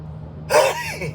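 A single sharp sneeze bursts out after a faint steady hum, followed by a brief trailing breathy sound.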